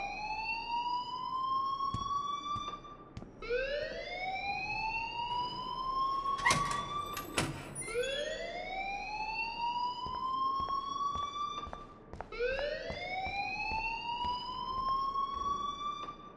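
An alarm in the game Life is Strange wails with repeated rising siren sweeps, each climbing in pitch and restarting, clear and continuous under a few brief clicks.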